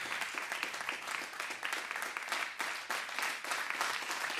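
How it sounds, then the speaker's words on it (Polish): Enthusiastic concert audience applause for a jazz sextet, dense and sustained clapping at full strength throughout, close and loud with no talk over it. "Ogromne brawa."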